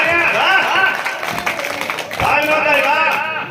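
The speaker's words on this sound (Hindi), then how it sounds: "जोरदार तालियां" An audience at a Hindi comedy poetry recital breaks into loud, sustained clapping and applause, with a voice speaking over it at times.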